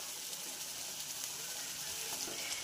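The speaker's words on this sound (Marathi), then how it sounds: "तर यामध्ये आपण पीसेस टाकून घेऊया फिशचे।" Fish pieces fry in oil and masala for a fish curry, giving a faint, steady sizzle without a break and with no voices.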